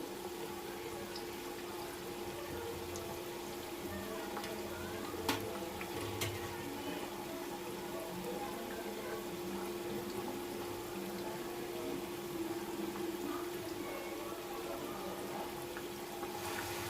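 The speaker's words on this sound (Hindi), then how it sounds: "अब मैं इसे फ्लिप करूँगी और इसे लो फ्लेम पे फ्राई होने दूँगी" Semolina kachori fry gently in hot oil over a low flame, a steady soft sizzle and fine bubbling that runs evenly throughout with a couple of faint clinks, close and moderately quiet.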